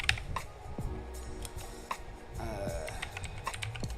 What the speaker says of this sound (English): I hate typing this name.